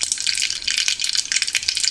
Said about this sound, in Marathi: बघा आपलं तेल छान तापलं आहे. आता आपण ही राई टाकूया